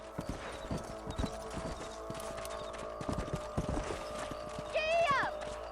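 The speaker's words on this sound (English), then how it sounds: "Let's get back on the horses" In the video game Red Dead Redemption, horse hooves clip-clop in a steady walking rhythm with a faint mechanical hum behind, and a horse whinnies briefly near the end.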